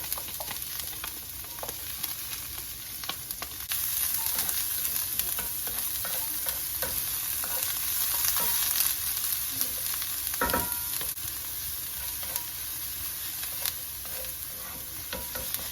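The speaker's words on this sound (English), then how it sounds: "I'm gonna first start out by adding olive oil to a hot skillet. And then I'm going to add 1/4 cup of diced onion." Diced onion frying in olive oil in a hot skillet over medium-high heat, giving a steady close sizzle with soft stirring scrapes and occasional clicks throughout, no talking.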